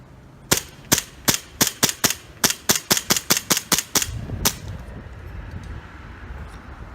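An Elite Force 1911 airsoft pistol fires about thirteen sharp, loud, evenly spaced shots in quick succession, then falls quiet.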